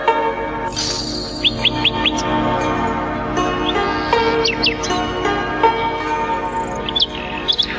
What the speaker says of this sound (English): So the nightingale started to sing straight away, and his song sounded so sweet that tears rolled down the old emperor's cheeks.